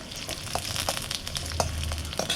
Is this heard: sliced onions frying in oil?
yes